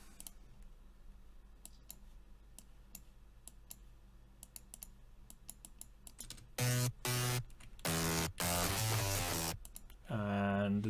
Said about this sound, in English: And then we have the bass fill.